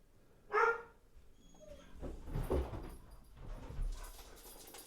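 A dog named Oliver gives one sharp, loud bark, then whimpers and whines softly in short uneven bursts, close by in a quiet room.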